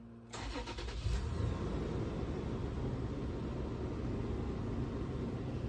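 A fifth-generation Toyota 4Runner engine turns over and settles into a steady idle, close and continuous, with no talking.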